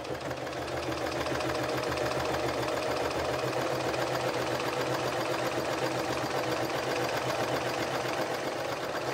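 A cover stitch sewing machine runs continuously at close range with a fast, even mechanical whir and rattle, and no talking.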